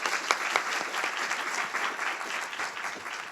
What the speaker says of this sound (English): So if we could just give a round of applause to Heather and the MCC partners.